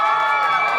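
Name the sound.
audience cheering and going wild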